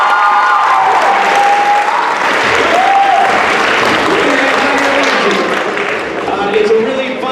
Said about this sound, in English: Let's practice that clap like somebody just finished.